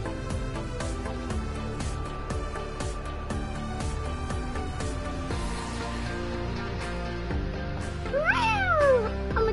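A person imitates a cat with drawn-out meows over a busy background of music or noise, the voice rising and falling in a short cat-like call near the end.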